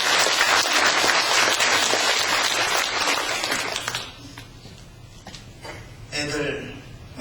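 A congregation applauds Olympic athletes at a church service, with steady, dense clapping filling the first four seconds before it thins out into a few scattered claps and some talk near the end.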